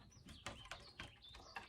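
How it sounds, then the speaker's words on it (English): Several birds chirp outdoors on a morning at an off-grid log cabin build site, with short bright calls repeating at a moderate distance over a soft background hum. "You can hear the birds are just chirping like crazy out there."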